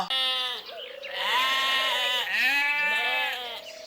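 A goat bleats loudly and close by, a long wavering cry that breaks into several drawn-out calls with no other sound around it.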